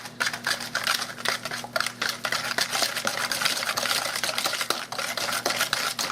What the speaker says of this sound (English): And I'm going to mix this together. I'm going to whisk it.